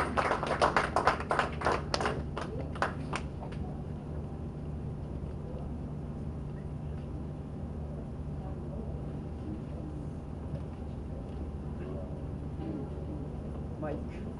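An academy audience at a lecture gathering breaks into a short burst of clapping. Sharp, close claps fill about three seconds, then fade into a steady background rumble.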